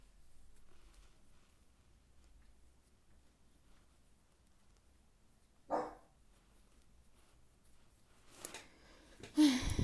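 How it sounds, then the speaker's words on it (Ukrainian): A dog barks faintly in the distance, a single bark followed a few seconds later by a short burst of barking, over a quiet background. "в мене там собака гавкає ще"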